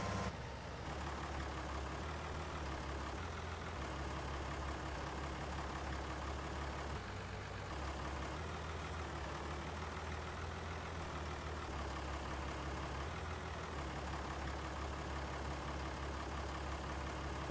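A tractor engine idles steadily in Farming Simulator 19, a continuous low rumble holding at an even level throughout with no talk over it.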